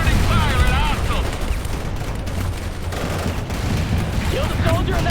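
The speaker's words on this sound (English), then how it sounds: "Bradley returning fire at hostiles!" Bradley armored vehicle gunfire in the World in Conflict war game, a dense, continuous barrage of shots and blasts mixed with battle noise and radio-style voices, loud and close throughout.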